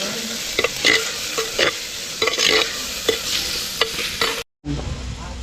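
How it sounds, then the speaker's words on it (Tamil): Ground shallots frying in a clay pot, sizzling steadily with repeated scraping stir strokes at an uneven rhythm, close and loud; a brief dropout cuts in before the frying resumes. "அடுத்தது நம்ம அந்த அரைச்சி வச்ச சின்ன வெங்காயத்தை போட போகிறோம்."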